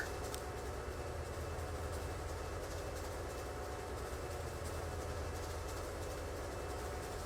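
Freight trains rumble steadily through a rail network in the game Transport Fever 2, a constant low rolling drone of wheels and engines without pause, no voices.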